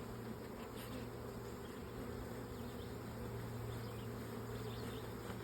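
A washed honey bee swarm buzzing around a hive box, a dense continuous hum of many bees with a steady low drone, faint and unbroken throughout with no talk.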